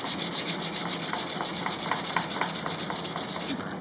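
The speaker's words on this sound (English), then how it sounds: "now I'm going to use this diamond, 600 grit diamond, flatten that out, take the burr off of the sides," A 600 grit diamond file flattens and deburrs the sides of a metal part, giving steady, rapid back-and-forth rasping strokes at close range with no voices.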